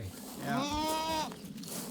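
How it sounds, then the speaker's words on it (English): A single goat on a Montana farm outside Conrad, in open countryside near the Rocky Mountains, gives a clear, wavering bleat lasting under a second, close and fairly loud. "A herd of very friendly goats on a Montana farm in the beautiful countryside within sight of the Rocky Mountains outside Conrad, Montana"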